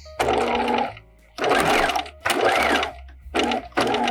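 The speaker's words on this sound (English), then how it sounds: "now I am stitching with my narrow zigzag yet again." A sewing machine runs a narrow zigzag stitch along gathered dress fabric in four bursts, each steady whirring run lasting about a second, with brief pauses between them, loud and close.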